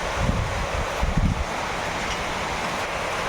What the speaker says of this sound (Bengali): বৃষ্টি হচ্ছে ঝাপটা দিচ্ছে ওই দিক থেকে